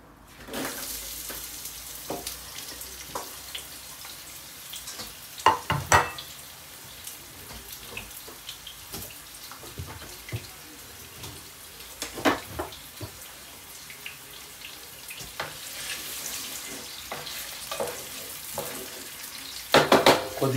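Onions fry in a pan for chicken biryani, a steady sizzle with scattered stirring clatters and occasional louder scrapes of the spoon against the pan, continuing throughout.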